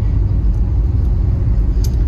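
Steady low rumble of car engines, including an AMG GT R, idling and rolling along in a slow car parade through downtown Telluride, Colorado, close and continuous without a break.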